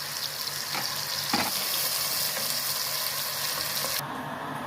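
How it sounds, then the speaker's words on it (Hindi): Chopped onions sizzle and crackle steadily in hot oil in a pan while cooking a mixed vegetable curry, with a brief stirring scrape partway through; no talking. "प्याज हमने ऐड कर लिया। अब इसको हल्का ब्राउन कर लेंगे।"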